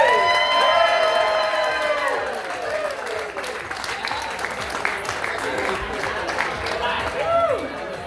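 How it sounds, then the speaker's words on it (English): A street crowd at a juggling performer's show cheers and applauds, with whoops and shouts over steady clapping that holds for several seconds and then swells again near the end. "Crowd goes crazy."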